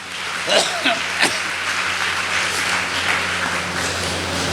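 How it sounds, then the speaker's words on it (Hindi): A church congregation at a Sunday service in a Kolkata chapel claps in thanks to God, a dense, fairly loud patter of many hands with a few sharper claps standing out, and faint voices mixed in underneath. "हम ताली बजाकर परमेश्वर को धन्यवाद दें"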